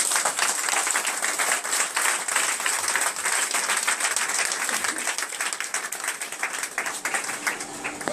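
A church congregation applauds and cheers steadily at a healing service, dense clapping and crowd noise filling the whole stretch without a break at a constant, fairly loud level.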